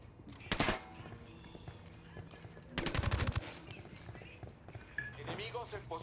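Gunfire in the video game Ghost Recon Wildlands: two loud automatic bursts over a busy game soundscape, with a voice talking in between and radio chatter layered throughout.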